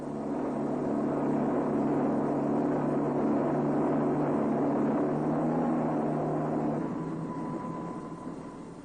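Series Land Rover engine labouring steadily up a slope on a longer, faster run, a continuous close, loud drone holding for about seven seconds before a gear or pitch change and slight fade near the end.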